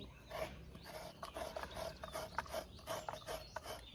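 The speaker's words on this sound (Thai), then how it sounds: "เราก็จะขูดขอบข้างๆตรงนี้ก่อนนะคะ แล้วก็ค่อยขูดข้างในนะคะ" Coconut meat being scraped from the shell with a hand scraper, edges first and then the inside, for Thai coconut pancakes. Close, rhythmic rasping strokes repeat steadily with a light ratcheting grind.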